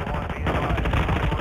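Dense, loud automatic gunfire in Call of Duty Warzone 2.0, rapid rounds running continuously for the whole moment with no talk over them.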